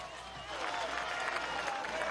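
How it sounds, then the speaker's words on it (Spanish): A crowd at a political march in Venezuela on 28 February 2015 applauds President Nicolás Maduro, the clapping swelling after a brief pause into a steady, dense roar of hands heard from some distance. "Muy bueno, un aplauso"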